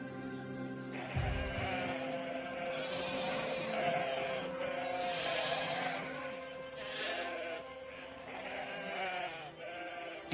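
Several sheep bleat repeatedly in a barn, overlapping calls rising and falling over a steady background with a brief low thump near the start, no talking.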